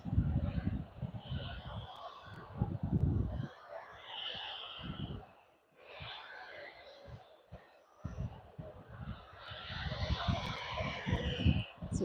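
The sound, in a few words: Jet2 airliner arriving at Manchester Airport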